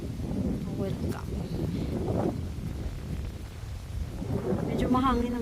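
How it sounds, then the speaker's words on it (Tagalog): Low, rumbling wind buffets the microphone continuously while people talk over it. "Medyo mahangin ang hangin."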